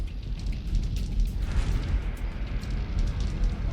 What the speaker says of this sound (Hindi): यह विस्फोट इजरायली हमले के बाद हुआ।